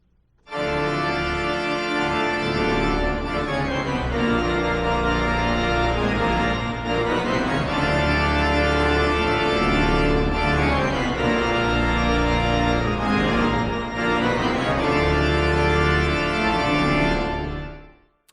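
A pipe organ plays loudly and continuously, rich sustained chords with deep bass notes swelling and shifting, ending with a fade to silence.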